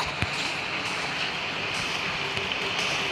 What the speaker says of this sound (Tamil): மழை பெய்யுது அவ்வளோதான்.